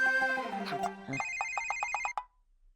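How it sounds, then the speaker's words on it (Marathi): Mobile phone ringtone: a series of bright, evenly spaced electronic chiming pulses that ring clearly for about a second after a brief stretch of tonal sound, then cut off. "हा हे बघ दादाचा फोन"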